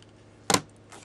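Scissors snipping through thread while laying out photos in a scrapbook, a single quick faint cut against a quiet room.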